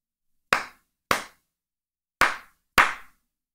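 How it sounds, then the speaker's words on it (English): Four sharp hand claps recorded for an online ear training exercise, loud and close, in an uneven rhythm: two spaced claps, a pause, then two more, each with a short decay into silence. "it starts recording immediately and you'll start clapping"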